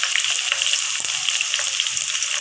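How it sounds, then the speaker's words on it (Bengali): Fried onions sizzle steadily in hot oil after ginger-garlic paste goes in, a loud, even crackling hiss that runs without a break, with a few faint scrapes underneath and no talking. "পেঁয়াজটা ভাজা হয়ে গেছে। এর মধ্যে এখন দিয়ে দেবো আদা রসুন বাটা এক চামচ, দু চামচ।"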